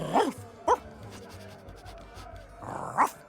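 A dog-like character in the Sea of Thieves video game barks three times: two sharp barks close together, then a pause and a final bark, over quiet in-game ambience.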